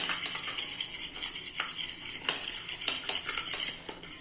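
Chili powder and salt are mixed in a dish with a spoon for a bread omelette, giving soft, quiet, irregular scraping and clinking taps.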